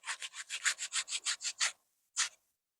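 A stiff brush scrubs hard at a stubborn dark stain, about ten quick rhythmic strokes in a row followed by a brief pause and one final stroke, close and fairly loud with no talking.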